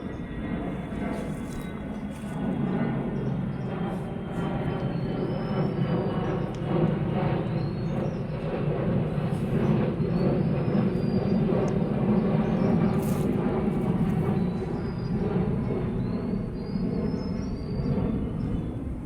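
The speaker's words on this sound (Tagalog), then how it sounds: "Ay, dumaan na eroplano." A low, steady airplane drone passes overhead outdoors by a tilapia fishpond, a broad rumble holding at an even level for about twenty seconds with no clear rise or fade.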